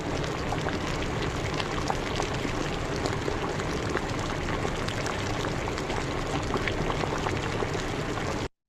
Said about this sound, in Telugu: అట్లనే సాఫ్ట్ సౌండ్స్, ఇంట్లో వచ్చే సాఫ్ట్ సౌండ్స్ బాయిలింగ్